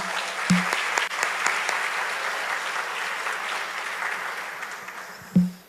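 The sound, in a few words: church congregation applauding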